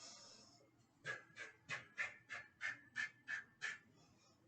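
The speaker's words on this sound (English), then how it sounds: "Puff breathing." Rhythmic puff breathing during a kettlebell core workout: about ten short, sharp exhalations puffed through pursed lips in an even, quick rhythm, close and fairly quiet, heard alone without speech.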